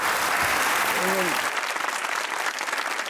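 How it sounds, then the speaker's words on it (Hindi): A studio audience claps for Pakistani cricketer Javed Miandad on a comedy talk show, dense applause with a brief voice over it early on, thinning toward the end. "ताली होनी चाहिए जावेद सर के लिए"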